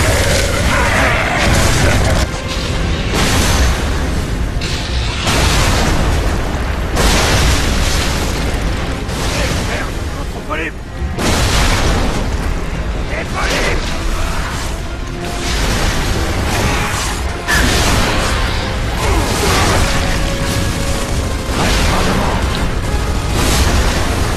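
A grenade explodes in the video game Gears of War 3, heard as heavy booming bursts within a loud, continuous wash of in-game combat noise that runs throughout.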